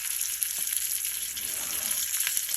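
Mustard seeds, curry leaves, green chili and asafoetida crackle in hot oil, a bright continuous hiss with scattered tiny pops, close and fairly loud, no voices.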